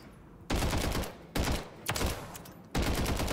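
Bursts of battle rifle fire in a video game, three loud rapid volleys separated by short pauses, each sharp and close, with no talk.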